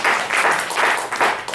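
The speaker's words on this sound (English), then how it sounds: "Let's get another round of applause for Terry." An audience at a poetry reading at KGB Bar gives steady, dense applause that stays loud and close for the whole moment, with no voices over it.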